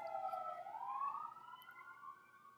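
A siren wails steadily at a distance, its pitch sliding up and settling, then slowly fading.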